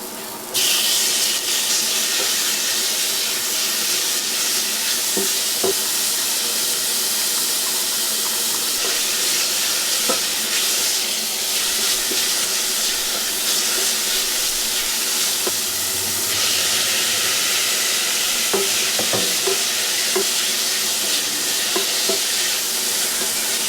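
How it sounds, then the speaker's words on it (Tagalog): Garlic and longganisa sauté in sunflower and olive oil, a loud, constant close-up sizzle with occasional clinks and scrapes of stirring throughout. "Ang unang gagawin pala dyan is igigisa yung garlic, tapos ilalagay yung longganisa, tapos may kamatis at sibuyas."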